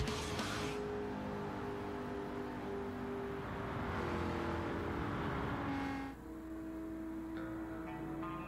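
Race car engine in Gran Turismo 7 drones steadily and loudly at high revs, a constant sustained roar with a shift in pitch around six seconds as it changes gear, no talk over it.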